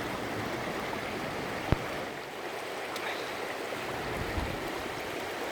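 A river on Dartmoor flowing over rocks, a steady close rushing and gurgling wash with a single sharp knock partway through, no talking.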